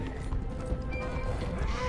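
Hooves clop rapidly in a running rhythm, a horse galloping in Red Dead Redemption 2, with a voice talking over it.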